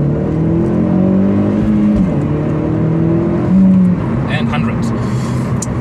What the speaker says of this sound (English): we're just gonna go a little bit on the highway so you can see how it's gonna accelerate